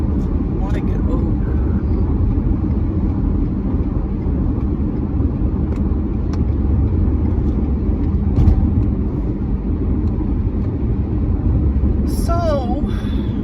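Steady low road rumble from inside a car driving through thickening traffic, continuous and even throughout, with a brief high chirp near the end.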